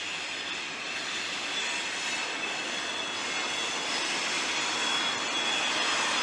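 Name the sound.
SD40-2 locomotive moving through a rail yard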